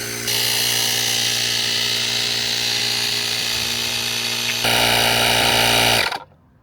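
A GREPRO jump starter's built-in air pump inflates a motorcycle tire, a steady, loud electric whine and motor drone that holds for about six seconds, shifts slightly near the end, then cuts off as it reaches pressure.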